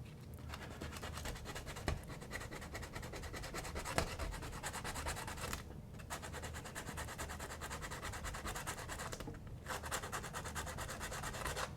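Quiet, steady rubbing and scratching of sandpaper on a painting surface in continuous back-and-forth strokes, with a couple of brief pauses.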